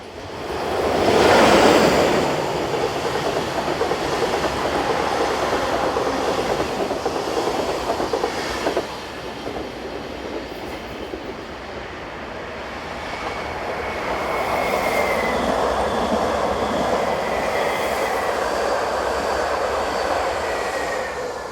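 Swiss passenger train from Locarno, hauled by a Class 420 electric locomotive, rumbles past with steady rolling noise and a louder swell early on, then a long continuous wash of wheels and wagons fading slightly toward the end.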